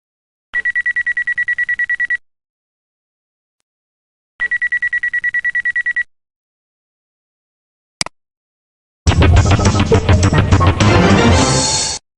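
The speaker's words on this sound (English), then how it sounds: "his Aunt May calls over Robertson's mobile phone" Electronic mobile phone ringing in the 1995 Spider-Man Interactive CD-ROM comic: two pulsed, beeping ring bursts, a short click, then a loud dense burst of sound at the end.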